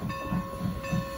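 A train passing on the Strasburg Railroad in Ronks, Pennsylvania, with a steady rumbling roll, rhythmic wheel clatter and a faint hiss, heard close by.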